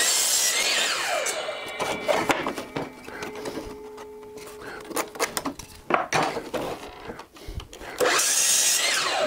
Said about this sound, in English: I'll cut 4 of these out of this piece of wood